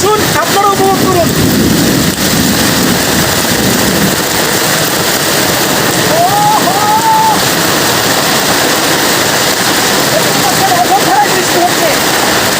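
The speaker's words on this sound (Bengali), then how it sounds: "বৃষ্টি হচ্ছে" Heavy rain pours steadily in a green village during a thunderstorm, a dense loud hiss throughout, with faint distant rumbling beneath and a few brief vocal sounds over it.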